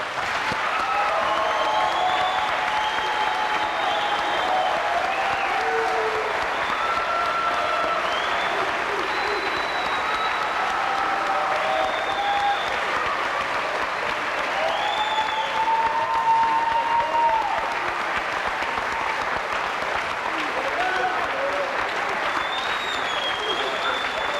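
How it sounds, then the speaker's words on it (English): Sustained audience applause at a Job Corps graduation ceremony, a dense, even roar of many hands clapping that carries on for over twenty seconds, with cheers and whistles rising above it. "Please give them a big round of applause."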